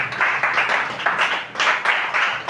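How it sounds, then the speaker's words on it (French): A church congregation claps together in praise, a dense, loud wash of applause with a steady pulsing rhythm, close and continuous throughout. "On se lève et on acclame le Seigneur."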